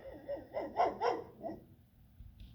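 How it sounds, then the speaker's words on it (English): A dog barks outdoors in a short run of several barks, moderately close and clear, with no talking over it. "My dog's out there somewhere."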